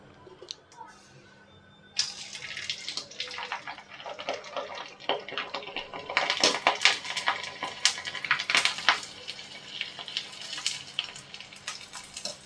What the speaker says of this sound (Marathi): कडकडीत तेलात कुरडई टाकायची, म्हणजे ती फुलते चांगली.